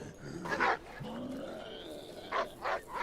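Dog in the survival game HumanitZ giving a few short, rough barks and grunts, with a pair of barks near the start and two more near the end, fairly close and moderately loud.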